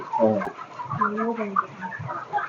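Chickens cluck and murmur close by in a continuous, overlapping chatter, with a brief sharp tap partway through.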